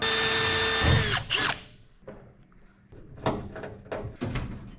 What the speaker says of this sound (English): we can go ahead and drill our screw holes